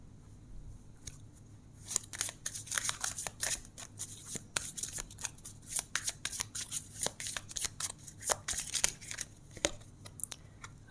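Tarot cards are shuffled by hand in a rapid, irregular flurry of crisp riffles and flicks, close and moderately loud throughout, with no speech.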